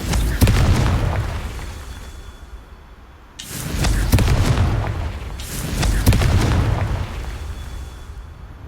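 Confringo blasting spell in the video game Hogwarts Legacy sets off a series of three heavy booming explosions, each bursting loud and then rolling away, with no talking.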